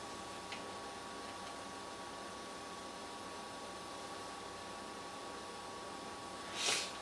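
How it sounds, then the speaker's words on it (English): Steady broadband hiss from a Kenwood car audio amplifier being bench-tested through a speaker, constant and fairly quiet throughout, with a brief louder rustle near the end. "now I did get some hissing noise from the amplifier"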